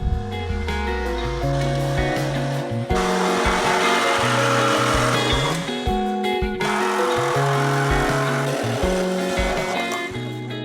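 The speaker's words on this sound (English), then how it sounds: "we're beginning to flare these pipes here" Exhaust pipes under a Ford Explorer are flared with a loud powered tool, two long droning runs with changing pitch, close and continuous with a brief break between them.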